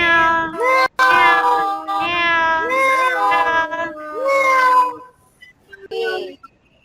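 Human voices imitate a cat meowing in a classroom teaching exercise: a series of drawn-out, close, loud meows from several people, some overlapping, fading into shorter scattered meows near the end.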